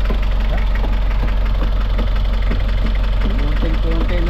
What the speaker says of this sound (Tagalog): warm up natin itong makina.